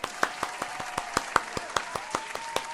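Steady single-person hand claps, about a dozen sharp close strikes at an even pace of roughly four per second, alone with no talk.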